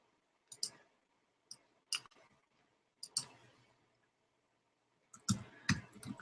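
Keys clack on a keyboard in a quiet room, a few isolated taps spaced out, then a quicker cluster of presses at the end, close and crisp.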